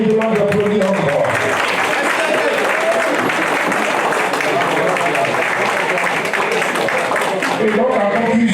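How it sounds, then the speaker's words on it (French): An audience at a political party section's investiture ceremony in Paris applauds steadily, a continuous wash of clapping with voices mixed in throughout. "la camarade Élise Djidjé, que je vous demande d'applaudir encore."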